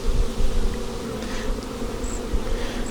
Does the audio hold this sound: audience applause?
no